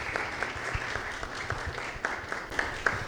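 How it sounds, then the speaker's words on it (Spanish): Audience applause at a book presentation during a book fair, a steady wash of clapping from a crowd, moderately loud and continuous with a few sharper individual claps standing out. "vamos a disfrutar de la exposición y le damos un fuerte aplauso"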